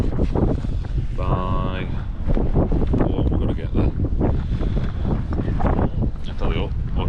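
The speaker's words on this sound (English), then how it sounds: "I'll talk about it when it's not so windy." Strong wind buffets the microphone with loud, continuous roaring gusts, while a person talks over it and a brief tonal sound rises briefly.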